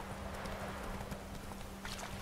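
Hooves of Roach, a horse in The Witcher 3: Wild Hunt, clip-clop in a quick, steady rhythm, fairly close, over a constant low background drone.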